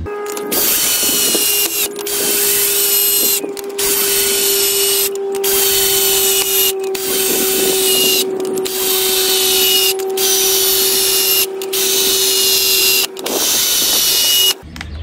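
A cordless screwdriver drives a 100 mm screw in a long series of loud, close whirring bursts, each run broken by brief pauses as the motor strains and the pitch sags under load.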